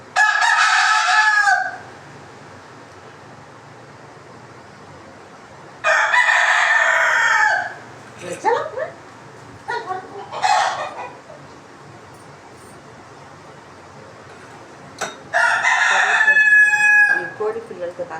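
A rooster crows loudly several times in a home kitchen setting, long bright calls separated by quieter stretches where hens cluck softly and briefly in the background.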